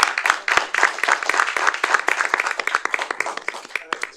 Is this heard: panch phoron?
no